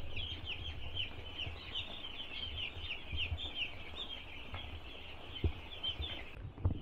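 Chickens in a poultry farm shed keep up a dense, constant chorus of soft clucking and chirping at a moderate distance, with a few louder thumps toward the end and no talking.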